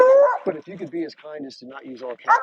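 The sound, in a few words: pet dog Ruby whimpering after seeing a deer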